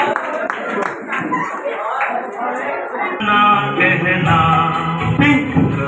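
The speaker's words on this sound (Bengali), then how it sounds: "একবার জোরে হাততালি হয়ে যায় এই ক্রকম্যানের জন্য" Audience at a children's birthday magic show clapping for the magician's helper, a loud, rolling burst of many hands that swells midway, with some voices mixed in.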